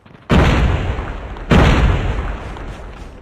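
Two booming grenade explosions in the Call of Duty Mobile game, each a sudden loud blast about a second apart with a long rumbling tail, close and heavy.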